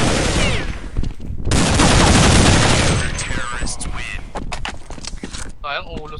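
Counter-Strike: Global Offensive gameplay with bursts of game gunfire, sharp shots followed by a sustained loud volley and scattered later cracks, mixed with players talking excitedly.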